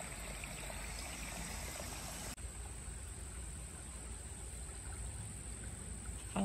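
Creek water flows steadily where summer campers in swimsuits and water shoes gather to wade, a constant broadband rush with no talking.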